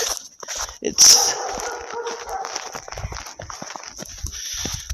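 A dog left out in the snow barks a few times from a distance, short sharp yelps near the start and scattered later, amid crunching footsteps on a snowy highway and someone talking.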